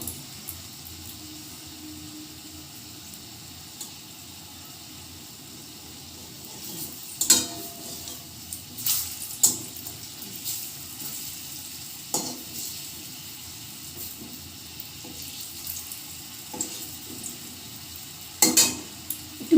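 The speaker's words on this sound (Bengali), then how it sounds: "দুটো দুটো করে ভেজে নিচ্ছি।" Food frying two pieces at a time in a generous amount of oil in a pan, a soft steady sizzle with occasional sharper clinks and scrapes from a utensil against the pan, no talking.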